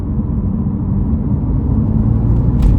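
A 2016 BMW M2 3.0i manual (F87) with its N55 engine idles in a deep, steady low rumble, close and loud and unbroken, with a faint whir rising near the end.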